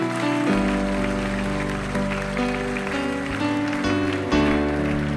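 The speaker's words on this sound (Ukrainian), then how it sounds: "Ми вітаємо вас оплесками." A church congregation at a Christmas service claps steadily, filling the room with a dense wash of applause over sustained organ or keyboard chords that keep playing throughout.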